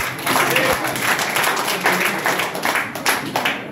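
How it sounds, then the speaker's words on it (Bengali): Audience applause at a health talk on diabetes and stem cells, a dense burst of many hands clapping that fills the room steadily for a few seconds. "জোরে একটা হাততালি চাই।"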